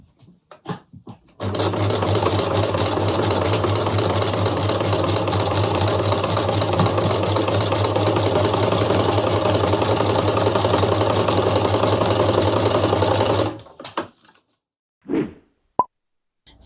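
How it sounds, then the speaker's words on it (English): A sewing machine stitches a bucket hat seam in one steady, loud mechanical whir lasting about twelve seconds, with a few soft clicks just before and after. "we sewed along the seam so that it was tight with the side of the hat"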